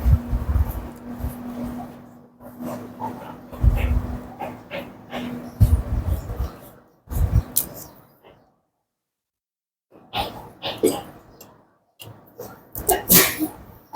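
A sneeze bursts out in a kitchen during a cooking demonstration of zucchini bacon and pasta. It is fairly loud and close, set among clattering household noise, with a brief silent gap afterward.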